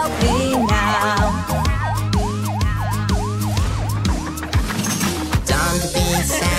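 A toy police car siren wails in a cartoon with a rapid, repeating up-and-down yelp, loud and continuous over background music and percussive thumps.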